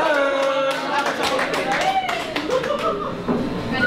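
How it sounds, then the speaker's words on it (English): Audience at a mentalist's stage show giving a round of applause, a clatter of clapping hands mixed with loud cheering and voices throughout. "a round of applause for Sam."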